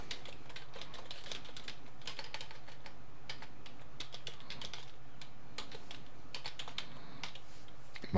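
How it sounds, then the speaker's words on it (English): Steady typing on a computer keyboard, rapid close key clicks in a continuous quiet stream entering Wi-Fi network details, with no voices. "type in the SSID."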